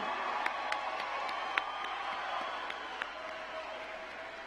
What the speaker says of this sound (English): let's give them another round of applause for their hard work, commitment, and dedication